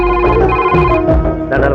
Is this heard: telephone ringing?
yes